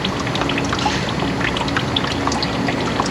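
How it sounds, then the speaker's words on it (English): Water pouring steadily out of the bottom of a MINI Cooper's sunroof drain while the drains are being cleaned, a continuous, loud, close rushing gush. "All kinds of water pouring out the bottom."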